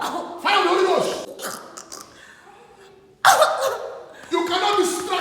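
A woman coughs in harsh bursts during a deliverance prayer session, with a loud spluttering fit at the start and another sudden one after a quieter pause, with voices around her.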